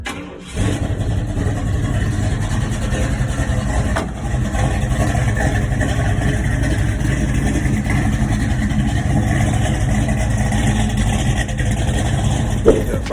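A 1987 Chevy C10 pickup truck's V8 engine runs steadily up close, a deep, loud rumble that holds an even idle throughout.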